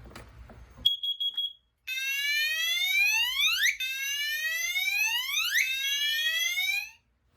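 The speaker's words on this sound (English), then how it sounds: "we're going to activate the CO detector. I'm just going to push the button" The CO detector on a Silent Knight 6808 fire alarm system sounds after a short beep, giving loud, close, repeating sweeping whoop tones that then stop.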